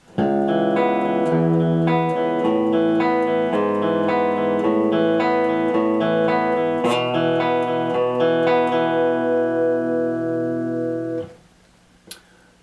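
An electric guitar plays a sustained, distorted riff of chords and notes from a song's verse, ringing loud for about eleven seconds before cutting off.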